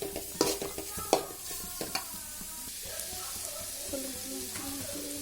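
Egg cracked over sautéed curry leaves and coriander in a pan, with a few close clinks and stirring knocks early on, then a soft steady frying sizzle beneath faint tonal background sounds.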